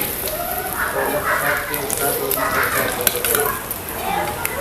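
Chili fritters (bhaji) fry in hot oil with a soft continuous sizzle and crackle, interrupted by occasional clinks and stirring of a utensil in the pan.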